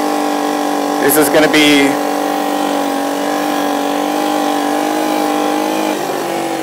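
A motorcycle engine holds a steady, even drone at constant revs during a slow riding drill, loud and close, with a rider talking briefly over it.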